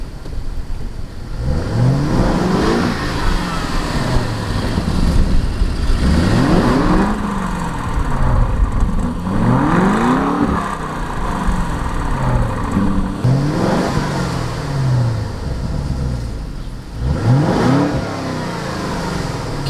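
A Lamborghini Urus SUV engine in street mode revs repeatedly, rising and falling in pitch with each throttle blip, loud and close with a steady mechanical rumble between revs.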